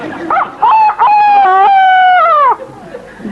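A person imitates a cockerel's crow, a single close and loud call of about two seconds with a short lead-in note and a sustained, slightly scratchy tone that bends down at the end.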